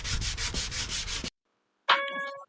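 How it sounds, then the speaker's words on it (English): Fast, rhythmic back-and-forth block sanding strokes on primer on a 2006 Porsche Cayenne body rasp up close, then stop abruptly; after a brief silence a short ringing tone sounds. "Look at me sanding, sanding, sanding."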